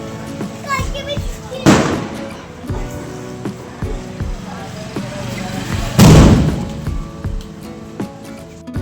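Two loud firecracker bangs ring out a few seconds apart amid constant chatter and children's voices outdoors during Diwali celebrations.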